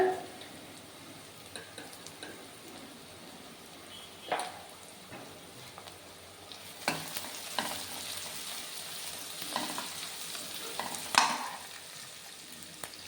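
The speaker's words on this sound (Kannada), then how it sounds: "ಸ್ವಲ್ಪ ಫ್ರೈ ಮಾಡ್ಕೊಳ್ಳೋಣ ಇದಕ್ಕೆ ಸ್ವಲ್ಪ ಅರಿಶಿನ ಪುಡಿ ಹಾಕ್ಕೊಳ್ಳೋಣ" Pan-frying with turmeric powder while making a fenugreek-leaf egg stir-fry: a soft, faint sizzle broken by occasional spoon clinks and stirring scrapes, growing a little busier toward the end.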